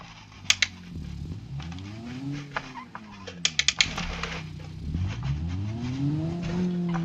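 Toyota Yaris concept car in the BeamNG driving game starts up and drives off, engine tone rising and falling through revs, with sharp clicks and knocks scattered over it.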